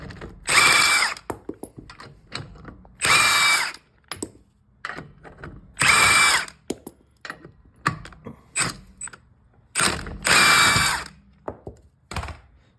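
Impact-style power tool removing lug nuts from the wheel of a 2016 Toyota Sienna Limited minivan in four loud, separate bursts of whirring and rattling, with short clicks and handling clatter between them.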